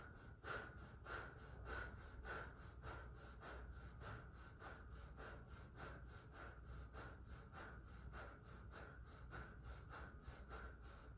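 Rapid, rhythmic pranayama breathing during a solar plexus yoga practice, with quick inhales and exhales repeating about twice per second, steady and close throughout, with no talking.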